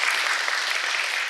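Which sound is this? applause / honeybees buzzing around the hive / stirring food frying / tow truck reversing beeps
applause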